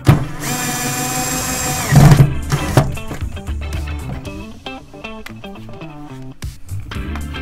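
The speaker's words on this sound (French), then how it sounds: "Nous pouvons éventuellement terminer le serrage à l'aide de la visseuse." A power screwdriver drives screws into a recessed basin frame: a loud whirring burst, then a series of short, stuttering ratchety pulses as the screws tighten, close and alone without talk.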